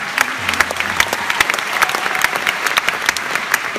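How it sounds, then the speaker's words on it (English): An audience at a nursing graduation claps in a dense, loud burst of applause, many hands slapping close together in a continuous patter that carries through the whole stretch without speech. "another round of applause."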